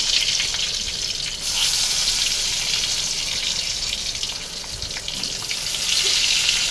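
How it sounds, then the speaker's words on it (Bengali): Eggplant slices dropped into hot oil give off a steady, bright hiss and crackle, loud and continuous, swelling slightly partway through. "তেলের মধ্যে আমি ছেড়ে দিলাম বেগুন"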